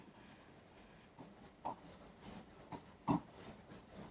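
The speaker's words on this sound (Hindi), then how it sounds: "इनोकुलेशन यही लिख देती हूँ" Pen on paper in quiet handwriting, soft scratchy strokes and light taps coming in short uneven bursts, close and faint with no talking.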